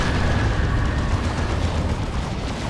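A grenade blast in the Warhammer 40K tabletop-style video game booms as a dense, roaring burst of noise that fills the whole short stretch with rumbling, crackling energy.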